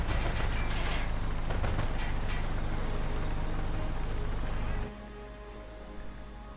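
Fallschirmjäger troops fire in a video game battle, a dense, continuous clatter of overlapping gunshots and bursts that holds for about five seconds before dropping abruptly to a quieter rumbling ambience.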